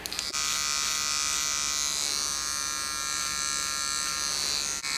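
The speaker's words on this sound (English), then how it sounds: "This is just a trimmer that I got off of Amazon." A skeleton hair trimmer bought from Amazon runs continuously while trimming a line, a loud steady close electric buzz with a high whine and a brief dip near the end, alone without talk.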